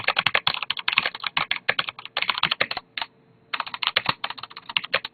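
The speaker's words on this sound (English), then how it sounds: "this is like me typing like if I'm angry at someone in a game" Rapid, forceful typing on a mechanical Cherry switch keyboard, with keys bottoming out in dense, loud clatter and one brief pause near the middle before the hammering resumes, close up and without voices.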